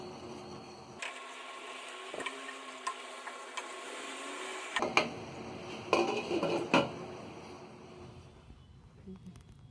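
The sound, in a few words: dry dates being stirred in a pot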